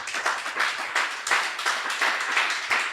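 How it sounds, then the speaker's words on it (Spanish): A church congregation claps together in steady, rhythmic bursts at a Spanish-language service, the applause fairly loud and sustained across the whole stretch with no talking over it. "Denle un aplauso al Señor por eso."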